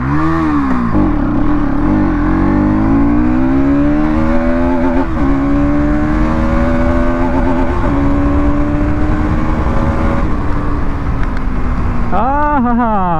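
A Bajaj RS200 motorcycle fitted with an Akrapovic exhaust revs loudly and close, its engine note climbing and falling through sustained throttle sweeps, with a sharp blip near the end.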